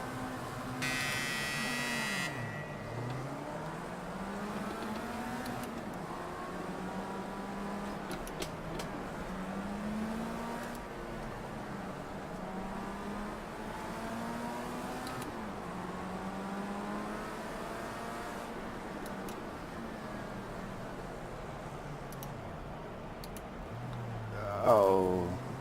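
Player car engine in Project Cars 2, a racing video game, drones steadily and loudly throughout, with repeated rising revs and gear shifts, and a brief louder burst near the end.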